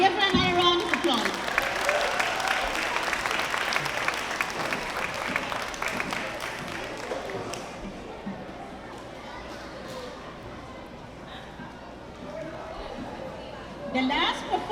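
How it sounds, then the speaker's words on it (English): Loud applause from an audience at a school Emancipation Day program on St Eustatius, with dense clapping and crowd chatter that fades after several seconds into low murmuring, then a brief burst of noise near the end. "Give her another round of applause"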